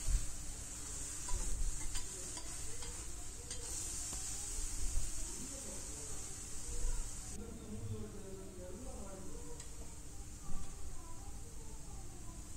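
Spring onions fry in a pan at home with a steady, close sizzle that runs throughout, along with some stirring and soft scraping, and brief background voices.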